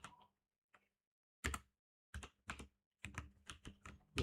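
Typing on a computer keyboard during a Kali Linux hacking exercise, with short bursts of crisp, close key clicks separated by brief pauses.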